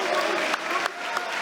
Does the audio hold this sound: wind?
no